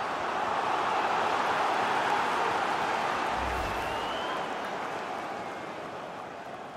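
Stadium crowd in FIFA 21 career mode for Watford, a dense, even roar of applause and murmur that holds steady and slowly fades, with a brief low rumble in the middle.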